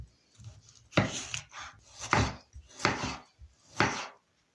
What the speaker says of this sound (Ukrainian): Наступне наріжу півкільцями помідорку.